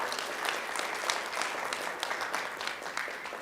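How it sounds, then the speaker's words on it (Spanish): An audience at a medical lecture on muscle spasm applauds, a dense, continuous patter of many hands clapping at moderate loudness that lasts for a few seconds with no talk. "Un aplauso para ella, por favor"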